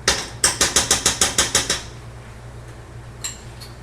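Two tablespoons of tomato paste go into a pan: a quick run of about nine sharp, evenly spaced metallic taps, like a spoon knocked on the rim, followed by near quiet and one faint later clink.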